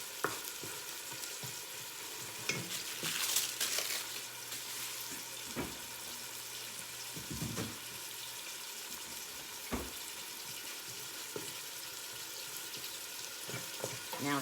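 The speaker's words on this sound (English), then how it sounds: "while your pork chop is browning. And keep moving your spices and stuff around" A pork chop browns in a pan with spices, giving a soft, steady sizzle with occasional clinks and stirring scrapes, and a brief burst of running water partway through.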